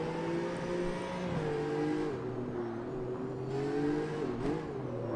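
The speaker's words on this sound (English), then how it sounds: "That transmission whine does make it sound like the car in Need for Speed" BMW recreated from the Need for Speed Most Wanted car in CarX Street, its engine droning steadily with a high transmission whine layered on top and small shifts in revs, loud and close throughout.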